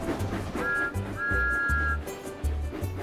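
A cartoon steam engine's steady high whistle sounds twice, a short blast then a longer one, over low rhythmic chugging and background music.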